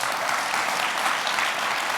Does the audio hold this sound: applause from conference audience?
yes